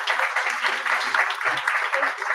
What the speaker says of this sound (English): big round of applause for Sumita and Tracy on that